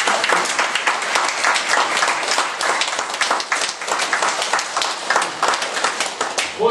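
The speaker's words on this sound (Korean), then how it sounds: "박수 치세요" A seminar audience in a church claps hands in a sustained, uneven patter of many palms, fairly close and steady throughout, with faint voices underneath.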